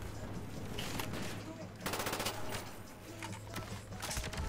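Gunfire in the Black Ops video game, rapid automatic bursts fired through walls, crackling in quick rattling volleys over a steady hum, with a player talking faintly beneath.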